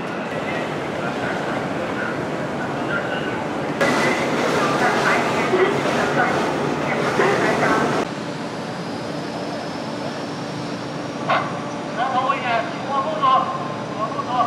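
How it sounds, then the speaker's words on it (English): A high-speed bullet train's steady interior rumble and rattling runs throughout at about 350 km/h between Beijing and Shanghai, with a louder clattering stretch in the middle and a voice speaking near the end. "This is what I call a train."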